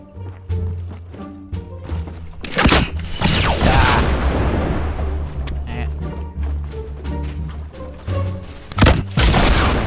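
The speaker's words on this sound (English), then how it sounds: "Hi, I got a rocket launcher." Rocket launcher explosions in a video game: heavy booms and crashing blasts, one long burst early and another near the end, over a busy background of game noise and voices.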